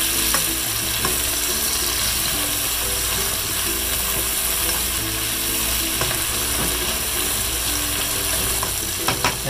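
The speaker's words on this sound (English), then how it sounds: "We saute this for about 3 minutes." Ingredients for pork caldereta sauté in a pan with a steady, loud sizzle, joined by occasional scraping and clinking as they are stirred, with no talking.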